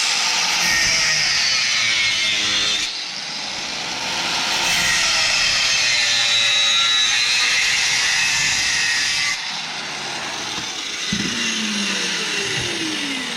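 Harsh, continuous grinding of a metal differential casing on a Cadillac CTS-V runs for over ten seconds, loud and close, with brief breaks in pitch as the tool shifts against the surface.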